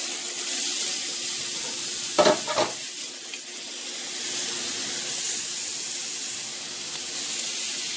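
Meat searing on a covered barbecue grill gives a continuous loud hiss and sizzle, broken by a brief pair of clattering knocks early on, close by with no talking.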